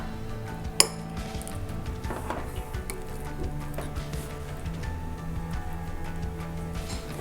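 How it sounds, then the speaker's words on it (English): A spoon stirs butter into single-serve Alfredo sauce in a pot, giving one sharp clink early on and then light, scattered scraping and ticking against the metal at close range, with no talk. "Stir it until the butter melts."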